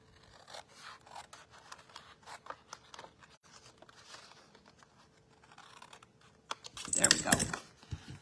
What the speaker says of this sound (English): I'm just going to trim off this one piece because we don't need that